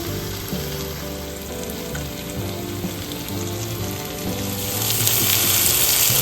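Kerala-style tiger prawns sizzle on a hot grill over high heat, a steady close crackle that swells louder in the last second or so, with no voices.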